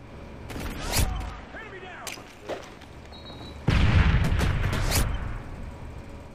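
Stun grenade detonating in a first-person competitive shooter match, heard as a sharp broadband blast followed by a sustained, loud burst of noise lasting over a second, with voices talking before it.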